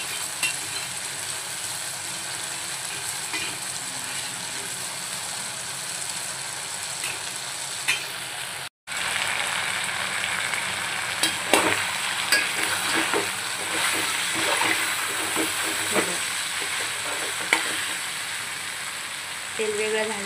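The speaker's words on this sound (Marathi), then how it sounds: "तर छानपैकी असं हलवून घ्यायचं." Onions fry in oil in a pan for Kolhapuri chicken masala while being stirred, a steady close sizzle with scraping and clinking of the spoon throughout, unbroken by talk.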